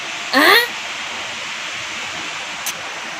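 Steady rushing of a flowing river fills the scene, broad and constant, with a brief voice and a faint click over it.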